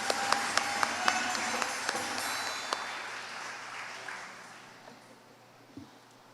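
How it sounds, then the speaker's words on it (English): Festival crowd applause at a night of the Kali Yatra festival in Chaguanas, a few loud distinct claps at first thinning into scattered, fading clapping that dies away over several seconds. "Give her a round of applause"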